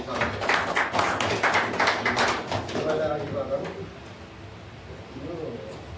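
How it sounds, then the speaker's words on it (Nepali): A crowd at a Nepali youth assembly claps loudly and briskly for a speaker being invited to the stage, the applause thinning out after a few seconds into a quieter hall where a voice carries on. "जोरदार ताली"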